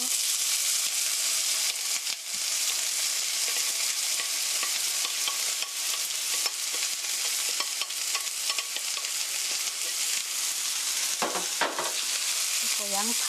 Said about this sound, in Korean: 썰어놓은 어니언 양파 넣어주세요.